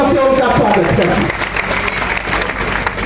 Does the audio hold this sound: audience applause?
yes